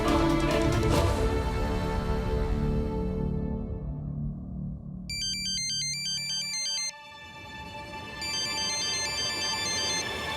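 A phone ringtone rings out loudly during a call to someone at home, a repeating electronic melody over a busy musical background, with the tone pattern recurring in bursts through the second half.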